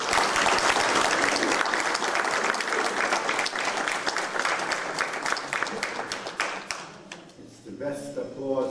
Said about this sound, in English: It's the best applause I've gotten,